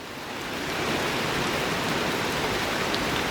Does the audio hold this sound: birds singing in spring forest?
no